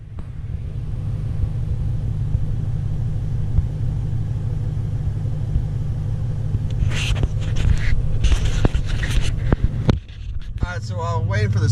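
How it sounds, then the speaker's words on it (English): An automatic car wash runs around a parked car, a constant heavy low rumble and rushing wash noise, with sprays and clatter breaking in partway through and a voice briefly heard near the end. "So while I'm waiting for this car wash that's taking forever"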